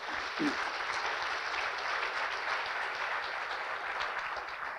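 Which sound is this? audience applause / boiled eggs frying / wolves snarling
audience applause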